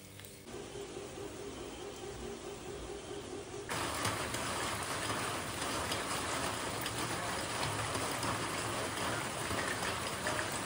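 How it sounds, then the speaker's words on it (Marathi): Steady rain hisses continuously, a dense even wash of sound that grows slightly louder partway through, with no voices. "पाऊस अजूनही चालू आहे"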